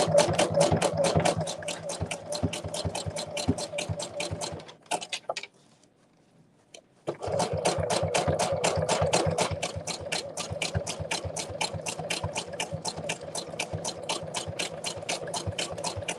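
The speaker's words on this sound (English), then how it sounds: "my sewing machine's making a noise." A sewing machine runs in rapid, even stitching bursts, stops briefly for a couple of seconds, then resumes at a steady pace.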